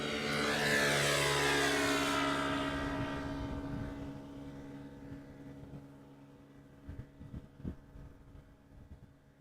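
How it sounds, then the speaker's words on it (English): An Airbus A350 departs runway 36L at Amsterdam Schiphol with a loud jet engine roar and a falling tonal whine, which fades steadily as the aircraft moves away, leaving faint rumble and distant thumps. "the A350 has just crossed runway center"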